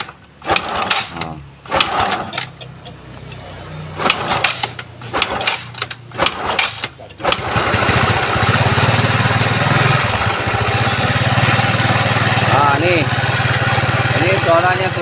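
A Yamaha Mio scooter engine running rough with a noisy CVT, first heard in bursts under someone speaking Indonesian, then a loud continuous rattling drone dominating the second half.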